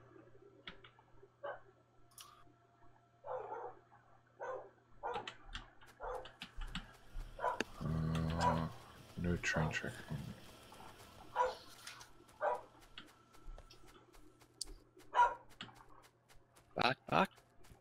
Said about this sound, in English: The dog's not happy it's been locked outside again.